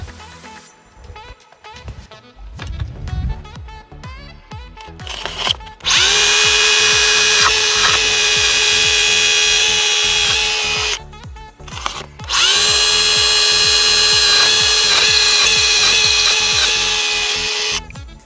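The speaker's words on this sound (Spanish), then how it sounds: "con la herramienta de montaje STR Tool lo que haremos es un montaje avellanado para que se embuta la arandela del enclaje por dentro del aislamiento." A power drill with the STR Tool sets an EJOT ejotherm insulation anchor countersunk into insulation, running in two long, loud, steady whines of several seconds each, preceded by shorter stuttering bursts and handling clatter.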